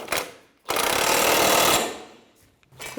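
An impact gun tightens a 19 mm nut on the rack and pinion assembly of a 1992-1996 Toyota Camry, giving one short hammering burst and then a longer sustained rattling run, close and loud.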